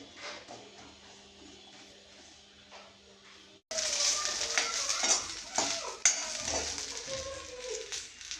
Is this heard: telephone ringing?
no